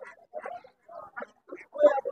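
White ducks at a busy poultry market, several short nasal quacks in uneven bursts, the loudest near the end, with market voices mixed in close by.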